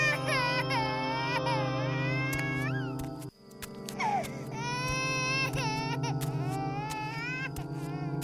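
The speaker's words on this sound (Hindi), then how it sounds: "ये रोने की आवाज कैसी?" A baby cries and wails in a tense horror-story scene, with rising, pitched sobs over a steady low drone; the cries break off around three seconds, then resume with whimpering cries layered over the music.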